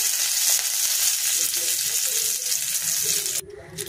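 Curry leaves hit hot oil while chilli paneer is being cooked, giving a loud, steady hiss and crackle that fills the clip, then cuts off abruptly near the end.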